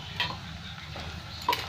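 Potatoes dropped into hot oil with browning onions and ginger paste, a quiet steady sizzle broken by two brief stirring clinks near the start and end.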